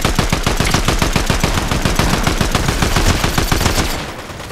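Rapid automatic gunfire in the shooter game Fortnite rattles out as a fast, continuous burst of loud, sharp reports for about four seconds before cutting off.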